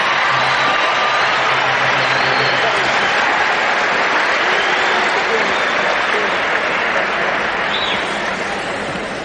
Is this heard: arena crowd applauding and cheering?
yes